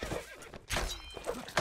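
A horse whinnies in the video game Mount & Blade: Warband during a 6v6 multiplayer battle, a short neigh among thuds and clatter of combat, moderately loud.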